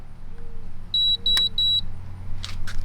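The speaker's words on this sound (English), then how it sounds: "you heard the beeps, so it is on" Zero Breeze Mark 2 portable air conditioner on a camper gives a short series of clear electronic power-on beeps, close and distinct over a low steady hum.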